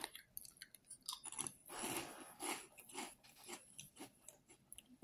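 Close-up crunchy chewing of small barbecue-flavored snacks from a Sanrio snack box, steady munching bites for several seconds, quiet and intimate with no talking.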